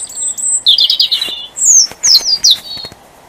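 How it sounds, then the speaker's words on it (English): Two robins sing in the dark at dawn on the winter solstice, bright warbling phrases trading back and forth in short bursts, one close by and another answering from farther off, with no talk. "He's duetting with a robin, which is all the way over there."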